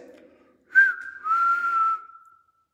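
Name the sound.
person whistling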